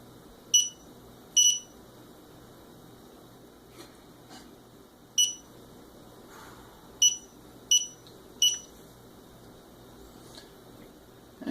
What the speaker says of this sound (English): if I miss, it gives me a low beep